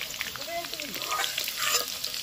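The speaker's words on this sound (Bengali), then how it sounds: "দেখো আলু আর গাজরটা আমি খুব সুন্দর করে ভেজে নিয়েছি" Potato and carrot pieces deep-frying in plenty of hot oil, a steady close sizzle with soft stirring scrapes, no voices.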